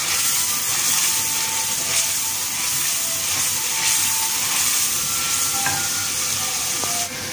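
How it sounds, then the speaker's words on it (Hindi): Milk boils on a home stove with a dense, steady bubbling hiss that churns on without pause at a close, even level. "ये दूध एक चूल्हे पे बॉयल हो रहा है"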